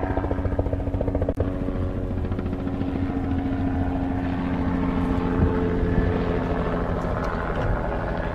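Steady low rotor thrum of a helicopter in flight, a continuous droning hum that holds fairly loud throughout with no voices.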